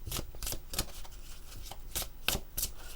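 Oracle cards shuffled for a daily reading, a run of crisp riffling bursts repeating every half second or so, close and moderately loud with no talking.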